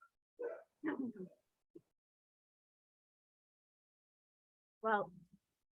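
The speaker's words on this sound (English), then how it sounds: "I just got to get my dog to stop barking" A dog gives a few short, quiet barks and whimpers in two brief bursts separated by silence, sounding somewhat distant.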